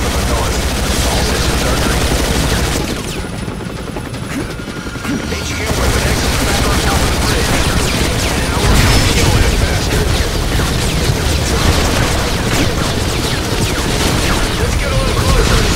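Gunfire in the video game X-Men Origins: Wolverine, dense loud sustained bursts and booms with a brief lull, then continuous firing, with a voice occasionally speaking.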